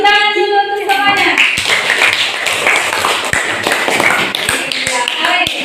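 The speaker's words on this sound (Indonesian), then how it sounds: "tepuk tangan dulu untuk semuanya" Clapping during an academic coaching supervision session, a group of hands tapping in a brisk, uneven flurry after a sustained voice at the start, with talk mixed in around the claps.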